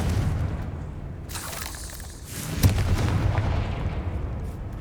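Confringo spell explosions in Hogwarts Legacy, a deep booming blast followed by a sharp burst and a rumbling tail over a low background hum, without talk.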